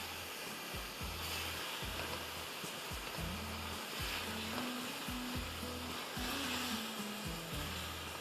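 Blended tomato puree fries in a pan for Banarasi pulao, giving a continuous broad sizzle with a rhythmic low thumping pattern running underneath.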